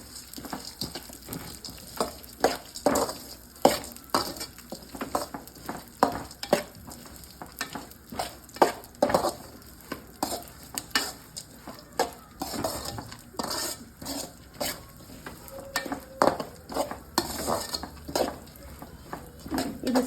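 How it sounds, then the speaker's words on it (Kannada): Watermelon seeds being dry-roasted in a pan for gond ladoo, stirred with a spoon that makes repeated scraping and rattling strokes, fairly quiet with a faint sizzle between strokes. "ಸೀಡ್ಸನ್ನು ಹುರ್ಕೋತಾ ಇದ್ದೀನಿ"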